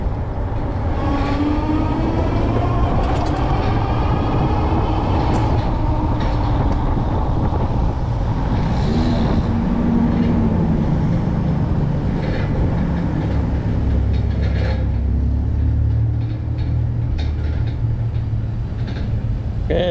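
A train rolls past outdoors on a hot day, a loud, continuous rumble with rail clatter and a steady low drone lasting about twenty seconds, with no talking.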